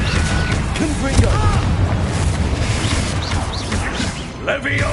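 In Hogwarts Legacy, a Confringo blasting spell goes off as a dull, rumbling boom amid constant battle noise, with a voice talking over it.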